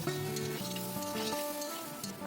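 Ginger, garlic, chilli, cumin, turmeric, salt, tomato and Kashmiri chilli powder sautéing in a pan for khichdi, a steady close sizzle with stirring scrapes and a faint tonal hum underneath.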